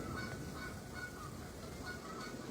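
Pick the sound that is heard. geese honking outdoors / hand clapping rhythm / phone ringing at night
geese honking outdoors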